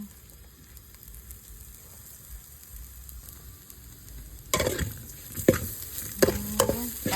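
Dried fish and banana stem stir-fried in a pan: a quiet stretch gives way to loud bursts of sizzling and scraping stirring, rising and falling in uneven strokes.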